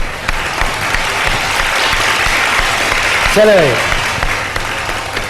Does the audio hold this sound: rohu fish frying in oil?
no